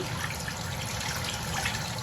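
Water runs steadily from a tap during handwashing, a continuous close splashing hiss with no pauses throughout.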